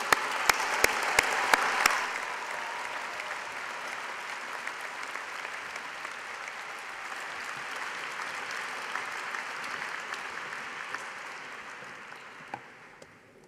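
Sustained applause from a large crowd at a university graduation ceremony, starting with a few sharp claps and settling into a steady wash of clapping that fades at the end.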